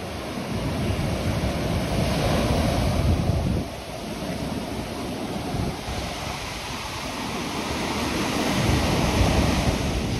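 Heavy, stormy sea waves crash and roar continuously on the Colombian coast, one surge after another, with gusting wind buffeting the microphone.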